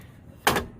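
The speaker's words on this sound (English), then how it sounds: "you just simply open the hatch" The hatch of a whole-house HVAC return air filter is opened with a single short scraping, sliding clack, close and moderately loud against a quiet background, with no talking.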